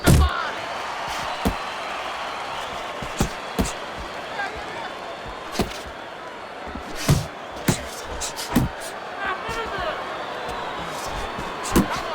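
Boxing punches landing in the video game Fight Night Champion, sharp thuds and smacks scattered irregularly over a crowd murmur, with commentary voices talking throughout.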